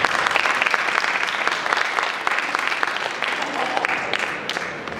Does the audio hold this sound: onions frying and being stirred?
no